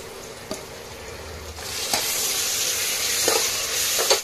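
Mint and tomatoes for chicken biryani sizzle steadily in a hot pan, a continuous close frying hiss broken by a few sharp clinks of stirring.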